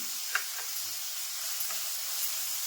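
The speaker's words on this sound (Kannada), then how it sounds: "ಎಲ್ಲಾನು ಚೆನ್ನಾಗಿ ಹುರ್ಕೋಬೇಕು" Chopped onion and garlic fry in a pan with a constant, close, airy sizzle and a few faint stirring taps.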